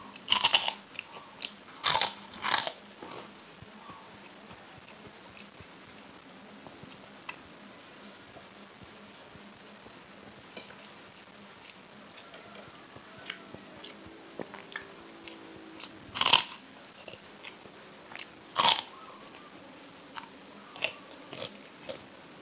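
Kerupuk crackers crunched while eating instant noodles and smashed fried chicken with raw sambal, sharp close bites scattered among quieter chewing, with no talk.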